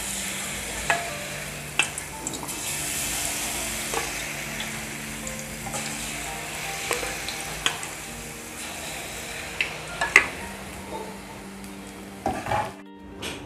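Egg chips batter frying in hot oil, a steady crackling sizzle with periodic clinks and scrapes of a utensil stirring in the pan, ending in a brief clatter.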